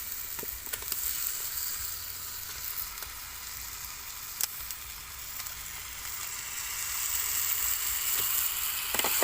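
Fish fries in a pan, giving a soft, continuous sizzle at close range with occasional faint clicks of stirring, and the frying grows slightly louder toward the end.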